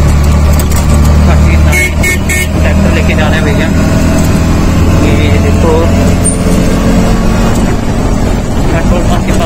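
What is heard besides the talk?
auto rickshaw ride in Delhi traffic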